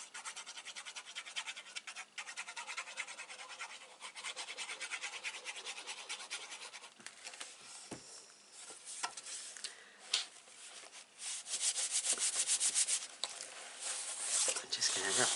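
Cardboard is rubbed down by hand while an album is being made, a soft, continuous scratchy rasping close by with brief pauses. A person talks at times.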